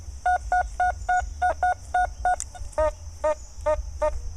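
Repeated electronic beeps from a Fors Core metal detector in pinpoint mode, swept over a large chunk of iron while digging for wheat pennies. Short tones come in an even pulse, about three per second, with the pitch shifting partway through.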